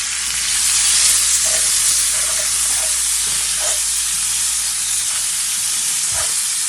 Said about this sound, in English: we're going to add a good amount of salt just to sweat out the onions there